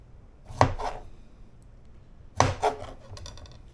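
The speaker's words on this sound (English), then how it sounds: "to slice these strawberries out." A knife slices through fresh strawberries in a bowl, making two distinct, fairly close cutting thuds about two seconds apart over quiet room tone, with no talking.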